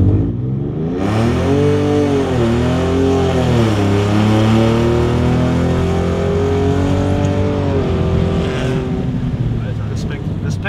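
A Ford F-150 Raptor pickup fitted with a flap-valve exhaust and an HJS downpipe revs hard, its engine pitch sweeping up and down in repeated loud, rising and falling pulls heard close up.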